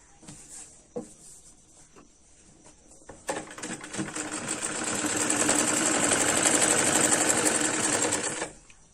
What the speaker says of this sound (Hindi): यहाँ से अच्छे से सेट करते हुए तब सिलाई को लगाना है